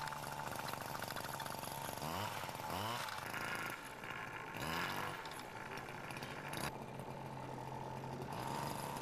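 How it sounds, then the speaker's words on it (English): A small petrol engine mounted at the front of a skateboard runs with a steady, buzzing drone that shifts in pitch as it revs, loud and continuous throughout. "a skateboard with a petrol engine at the front."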